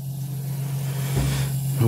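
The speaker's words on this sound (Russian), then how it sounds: "Двигатель крутится спокойно, не напрягаясь." An electric hub motor built into a wheel spins steadily, giving off a constant low hum that stays even throughout, with a brief voice near the end.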